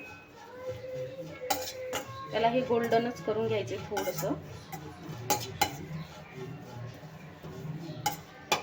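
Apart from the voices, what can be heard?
stirring grated coconut in steel kadhai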